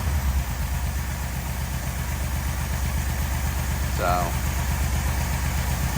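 A 1987 Yamaha engine idles on its carburetor with a steady, close, low rhythmic chug, continuous throughout with an occasional miss; a brief voice speaks near the fourth second.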